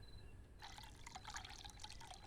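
Water poured into a car radiator in the game Nomad Drive, a steady splashing trickle that starts about half a second in and runs continuously, close and clear, with no talking.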